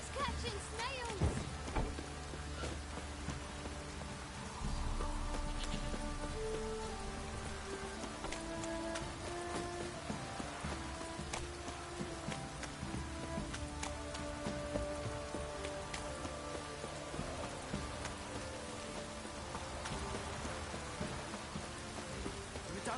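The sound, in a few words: rain in video game The Witcher 3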